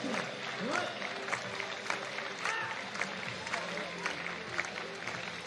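Indoor athletics meeting crowd in Nantes, France, clapping rhythmically to back a jumper before his attempt, steady dense applause with a commentator talking over it.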